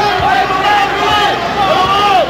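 Crowd of Barangay Ginebra fans fills a basketball arena during a free throw, a steady loud roar and babble throughout, with a commentator talking over it.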